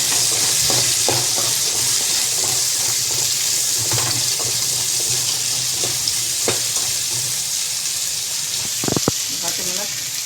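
Whole garlic cloves and small shallots frying in hot oil for an Indian egg gravy, a steady close sizzle with scattered stirring clatters and a spoon knock near the end, as someone talks over it.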